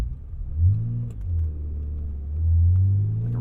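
A 1999 Dinan BMW M Roadster with a low battery rumbles through a slow start, its engine note swelling, dipping, then swelling again into a steady close idle, with no one talking.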